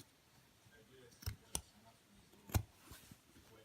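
Scissors snip through thin leather fringe, making a few faint, crisp clicks in a quiet room: two close together, then a louder one a second later.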